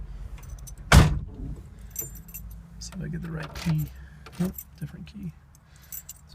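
A ring of car keys for a 1967 Chevelle jangles loudly up close in one sharp burst, followed by softer clinks and rattles as the keys are sorted, with speech-like sounds in between.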